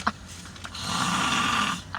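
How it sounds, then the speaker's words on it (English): A person gives one long, rasping snore on the inhale, framed by short breathy sounds at the start and end. "If you ever need snoring lessons"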